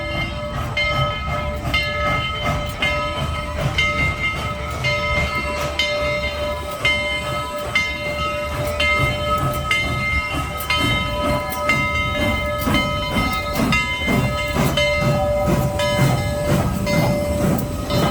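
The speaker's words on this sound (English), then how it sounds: "take a look here at one of their operating steam locomotives, one that's pulling passenger trains today" Operating steam locomotive hauling a passenger train at the Tennessee Valley Railroad Museum, a continuous close rumble with clanking wheels, steady hiss and sustained whistle tones throughout, no talking.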